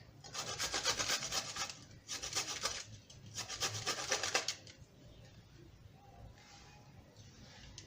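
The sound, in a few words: grating garlic on the fine side of a grater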